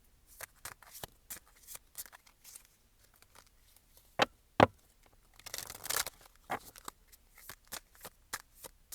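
Tarot cards being shuffled by hand, a run of quick papery riffles and soft slaps that come in bursts, with a louder crisp flurry partway through, close and alone with no talk.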